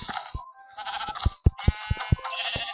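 Sheep bleat in Minecraft, a few wavering, nasal calls with short thumping steps in between, close and fairly loud.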